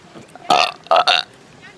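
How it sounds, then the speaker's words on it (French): A loud burp after drinking Pepsi Cola, heard as three rough bursts, the last two close together, with no talk over them. "Pepsi Cola, fait roter."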